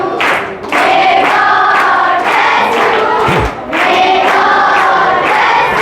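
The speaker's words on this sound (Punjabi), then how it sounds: "ਤਾੜੀਆਂ ਦੇ ਨਾਲ ਜਿਸ ਤਰ੍ਹਾਂ ਬੱਚਿਆਂ ਨੇ ਸਵਾਗਤ ਕੀਤਾ" Children welcome Babbu Maan with loud, sustained applause and cheering, a dense crowd roar that dips briefly twice before swelling again.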